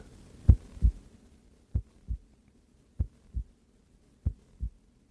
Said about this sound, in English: a heartbeat is one of the most soothing sounds on the planet